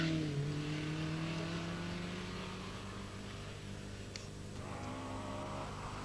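A Ford Escort RS 1800 rally car's engine at the 1980 Ulster Rally gives a fairly faint, distant tonal note that rises and falls as the car works through the stage.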